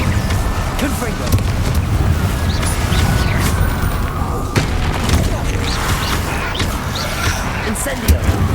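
Fiery blasts from the Confringo spell in Hogwarts Legacy, fired at Inferi, sound as dense, continuous booming and crashing with scattered impacts, loud and close throughout an intense fight.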